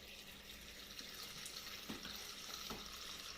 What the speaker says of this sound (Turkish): Pompayla hava bastıkça içinden su akmaya başlayacak.